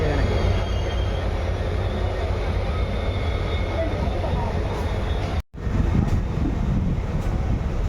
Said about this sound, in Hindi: अपनी ट्रेन आ चुकी है अलवावाड़ी रोड जंक्शन के प्लेटफॉर्म नंबर 1 पे।